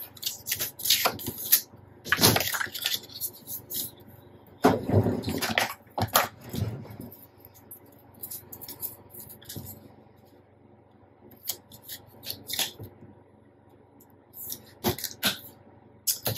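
Tape torn with a tape tear tool during a craft build, heard as several short, sharp ripping and snapping bursts at close range, separated by quiet stretches with faint handling noises.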